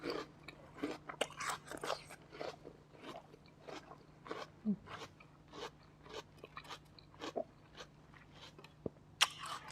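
Crisp, juicy snow lotus (yacon) root is bitten and chewed up close, a series of sharp wet crunches in an irregular rhythm against a quiet background, no speech.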